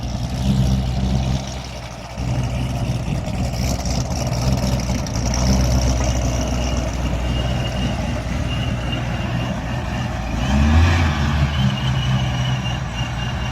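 A boosted C6 Corvette on a chassis dyno, its engine roaring at a steady loud level with a deep rumble, then a swelling surge near the end as a blow-off valve releases; no voices.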